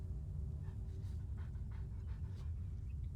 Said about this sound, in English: There's a dog chilling.